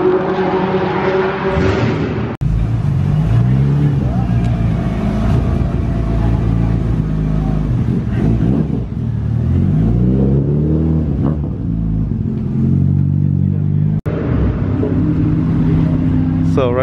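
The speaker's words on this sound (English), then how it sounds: "So right now some cars are starting up and loaded." Race cars at a Super Lap Battle event, including Corvettes and an AMG, start up and rev at close range, a dense rumbling engine roar with surging revs running throughout, people talking underneath.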